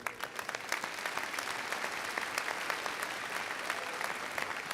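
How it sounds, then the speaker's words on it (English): A crowd applauding at a 2024 high school graduation commencement, steady dense clapping from many hands heard at moderate distance for several seconds without talk. "Could we give a round of applause real quick?"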